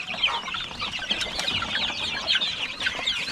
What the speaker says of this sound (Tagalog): Bagong sisiw ng manok oh.